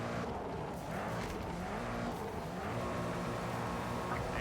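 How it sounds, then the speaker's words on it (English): A race car engine roars steadily in the Project CARS 3 racing game, a faint and continuous drone of engine noise with no clear gear changes and no talk over it. "Hit the throttle."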